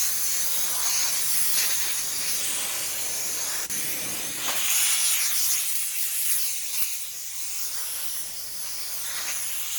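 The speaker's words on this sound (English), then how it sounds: "I'm going to blow it off here with some air" Compressed air blasts steadily from a nozzle over an antique wooden barn trap door being refinished, a loud continuous hiss that lasts the whole stretch with slight surges and dips.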